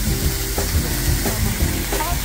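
Seasonings such as onion and garlic powder get stirred into a pot sizzling loudly and steadily, with scraping stir strokes repeating every half second or so.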